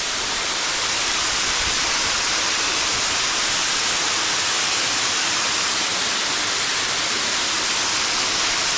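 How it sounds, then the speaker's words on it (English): Water pours over a small dam spillway at Horseshoe Dam in Arizona, a loud, unbroken broadband rush filling the air with no voices. "this looks like a little spillway."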